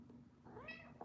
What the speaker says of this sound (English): Other kitty came to say hello.